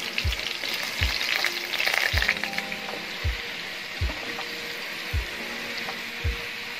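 Paneer hitting smoking-hot mustard oil in a wok for a light shallow fry, with a steady sizzling hiss and a run of soft periodic low thumps underneath, heard alone without talk.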